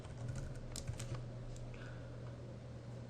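Typing on a computer keyboard to enter a patch name during software configuration, with scattered light key clicks over a steady low electrical hum, no voices.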